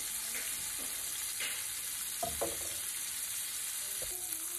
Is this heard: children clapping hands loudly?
no